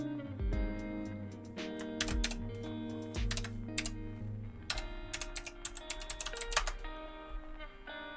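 Keys clack on a full-size computer keyboard in uneven bursts of typing, crisp and close, with short pauses between runs of keystrokes.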